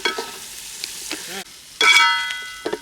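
Onions and green chillies fry in oil for a village-style gongura chicken, a sizzling hiss with brief stirring scrapes, cutting out for a moment before a louder burst of frying returns.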